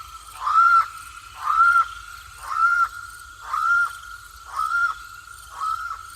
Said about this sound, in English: Channel-billed cuckoos are the largest cuckoo in the world.